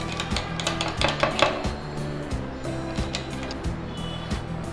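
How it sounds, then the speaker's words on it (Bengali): A spoon stirring bael fruit sherbet with sugar in a glass, giving a steady run of light clinks and taps against the glass, close up and fairly even in rhythm. "এখন এটা আমি নেড়ে দিচ্ছি।"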